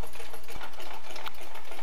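Small Stirling engine running on a torque-measuring setup, its hot end near 200 °C, giving a steady rapid mechanical whirr with fine repetitive ticking, close and continuous with no pauses.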